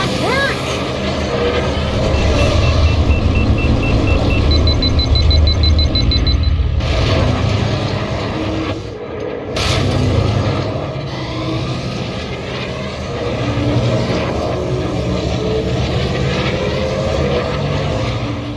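Pod racer engines in a Star Wars Episode I video game, a continuous loud roaring drone with a whining tone and rushing passes, heard alongside talk over it.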